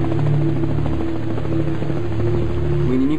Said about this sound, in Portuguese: O inimigo sabe como é o som dos helicópteros